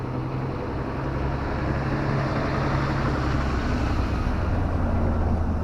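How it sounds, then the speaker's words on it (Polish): A truck rolls past a used-car lot in Nuremberg, Germany, a steady, fairly loud engine drone and tyre roar that holds evenly throughout with no voices. "ciężarówka mi tu jedzie. Słyszycie?"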